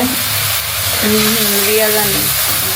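Okra and potato curry cooking in a pan, a steady close sizzle and hiss running throughout, with a faint voice-like tone briefly over it.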